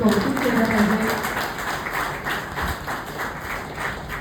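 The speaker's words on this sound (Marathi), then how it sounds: "त्या सगळ्यांचं आपण टाळ्या वाजवून खरं तर कौतुक केलं पाहिजे" An audience at an appreciation event breaks into sustained applause, a dense wash of many hands clapping that stays fairly loud throughout, with a voice briefly audible at the start.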